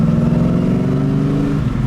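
A 1976 Pontiac Trans Am 455 with a four-speed hums steadily with a low, throaty drone, holding a fairly even pitch close by, no voices over it.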